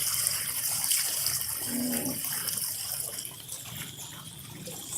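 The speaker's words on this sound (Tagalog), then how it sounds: "Grabe, lakas ng baha oh." Strong floodwater rushes and churns in a steady, broad wash of sound, continuous and fairly close throughout.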